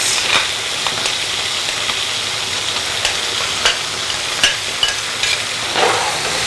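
Onion and tomato are stirred in a hot frying pan, a steady broad sizzle with soft scraping strokes and occasional clicks of the utensil, close and continuous.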